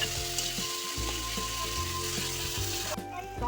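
Ginger paste and tomatoes sizzle steadily in a hot pan for a cauliflower and potato curry, a loud continuous frying hiss with a few soft stirring knocks, close by with no talking.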